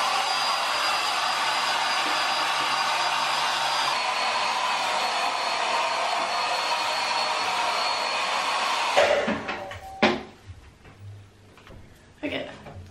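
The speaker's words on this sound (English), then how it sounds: "I'm gonna give it a quick blow dry so we can see the final results." A hair dryer blows steady and loud over freshly dyed pink hair for about nine seconds, then cuts off, followed by faint handling clicks and rustling.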